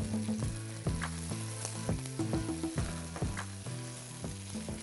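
Onions and green chillies sizzle in a frying pan with a steady crackling hiss, broken by repeated clinks and scrapes of a spoon stirring close up, and no one speaks.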